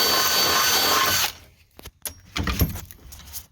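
A power drill drilling through a car floor above the fuel tank whines loudly for about a second then stops, followed by clattering and metallic handling of tools nearby.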